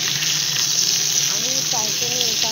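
Fish sizzles and spits steadily in hot oil in a tawa pan, a loud continuous frying hiss close by, while a voice talks faintly in the background.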